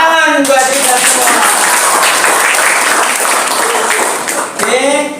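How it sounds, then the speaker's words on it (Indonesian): Audience of school students applauding together in an assembly, a loud dense burst of clapping with cheering voices, fading toward the end as speech returns. "Tepuk tangan buat kita semua."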